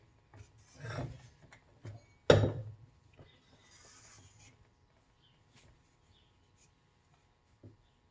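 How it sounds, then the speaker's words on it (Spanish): A few scattered scraping strokes of a wooden scraper against a clay pot in a handmade Tokoname-style planter, including one sharper loud scrape, then mostly quiet with faint rustles. "Con una rasqueta de madera"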